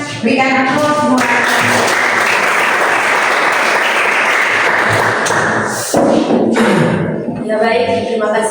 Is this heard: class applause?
yes